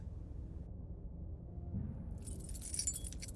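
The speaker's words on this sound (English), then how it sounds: "Keys." Keys jangle and clink in a video game scene, a bright metallic rattle that rises in the latter half over a steady low ambient rumble.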